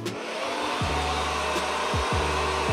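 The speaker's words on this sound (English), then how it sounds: "right now I'm drying with hot air because I want my hair to dry faster" A hair dryer blowing hot air on damaged, bleached hair, a steady loud whirring drone held throughout with slight pitch shifts as it moves.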